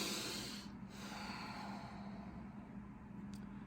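Deep breathing in and out through the nose, a soft airy rush over faint steady background noise, quiet and close with no talking.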